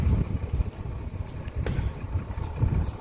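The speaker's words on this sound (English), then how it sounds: "is the variable geometry turbo shutting down, creating back pressure to heat the engine up quicker." A variable geometry turbo shuts down on a farm machine's engine at harvest time, heard as a steady, fairly loud low rumble with a faint rising whine on top, and no talk.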